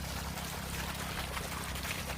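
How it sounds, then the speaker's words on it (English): White water gushes from an underground downspout drain pop-up emitter at about 280 gallons per minute, a steady, dense, close rushing roar with no letup. "White water gushing from that pop-up emitter."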